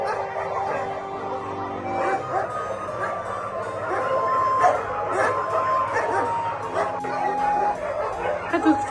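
Restless dogs yip, bark and howl in short overlapping bursts under a steady background hum, with a voice talking alongside.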